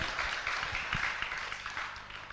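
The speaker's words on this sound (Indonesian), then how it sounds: "Tepuk tangan adik saya." Audience applause at a talk or lecture, a steady wash of many hands clapping at moderate, fairly distant level, with no voices over it.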